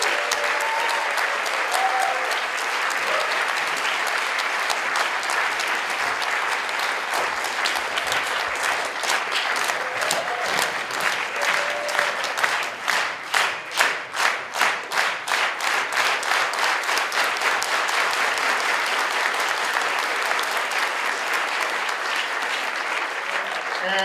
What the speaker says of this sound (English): a round of applause for our guests